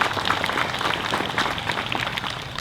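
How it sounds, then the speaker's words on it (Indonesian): Audience applause for the deputy regent of Aceh Besar at a gathering in Teuladan village, Lembah Seulawah: a dense, steady wash of many hands clapping, close and loud, continuing without pause for the whole stretch. "Tepuk tangan untuk Pak Wakil Bupati."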